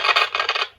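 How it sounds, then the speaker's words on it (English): A short dry rasping scrape buzzes for under a second, fluttering slightly before trailing off, close and fairly loud: foil on tape scraping across the playback heads of a 1964 Westinghouse reel-to-reel cartridge player. "it's raking that foil across the heads"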